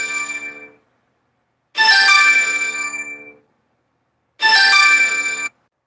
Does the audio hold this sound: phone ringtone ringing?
yes